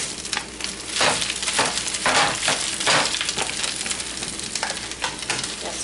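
Spinach frying in olive oil in a pan, a steady loud sizzle with bursts of crackle and stirring scrapes throughout.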